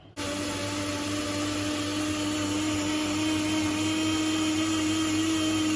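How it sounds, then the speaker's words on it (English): Blender whirring steadily at high speed as it purées vegetables with water for saltfish fritters, starting abruptly and holding a loud, constant motor whine with no talking. "So yeah, let's get blending."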